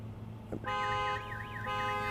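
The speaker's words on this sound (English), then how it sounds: "car alarm is going off in the background" A car alarm near Interstate 94 by Oconomowoc starts up after a brief chirp, cycling a loud warbling siren tone that rises and falls repeatedly over steady background hum.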